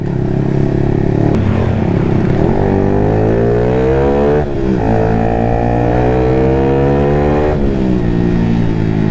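A loud motorcycle engine revs hard, the pitch climbing and falling through several throttle blips with steady exhaust roar and no talking.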